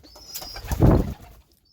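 Pigeons flap their wings inside a loft, a short burst of fluttering beats that rises and falls within about a second, close and fairly loud, with faint bird sounds around it.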